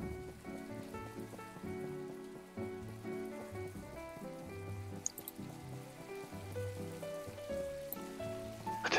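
Steady rain in the video game My Time at Portia, a soft constant patter heard beneath layered, continuous game music throughout.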